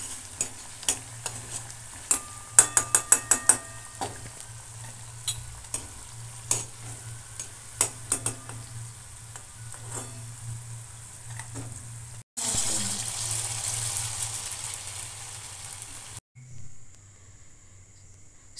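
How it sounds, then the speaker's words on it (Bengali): Date tokti sweets fry in oil in a home kitchen, a steady low sizzle broken by sharp clinks of stirring and utensils, then a louder bright hiss of syrup or water near the end, with no talk. "সব খেজুর তক্তিগুলো আমার ভাজা হয়ে গেছে"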